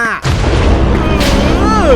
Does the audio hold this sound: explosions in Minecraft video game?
yes